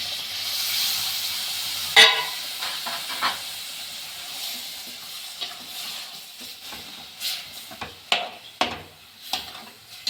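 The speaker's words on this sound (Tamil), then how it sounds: "இந்த தேங்காயை அரைச்சி வச்சுருக்கிறேன். இதை எடுத்து இப்போ ஊற்றணும்." Ground coconut paste is poured into a simmering fish curry, bringing a soft sizzle and hiss with scattered stirring scrapes and pot clinks, including a sharp knock early on.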